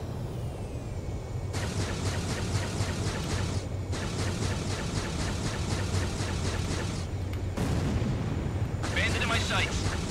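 Missile launches and jet rumble in the flight combat game Ace Combat 7, a steady loud roar with repeated bursts of rapid pulsing fire starting and stopping in several stretches.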